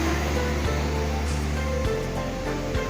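Steady surf washes onto the beach at Pantai Raja in Pidie Jaya, a continuous broad rushing roar of waves that fills the background with no talk.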